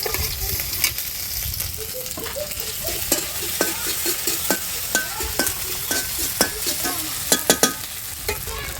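A ground ginger and cumin paste fries loudly in a pan, a dense crackling sizzle punctuated by repeated sharp scraping stirs, growing busier toward the end.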